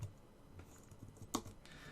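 Quick keystrokes on a computer keyboard while code is written, a short irregular run of soft clicks with a couple of sharper taps, close and fairly quiet.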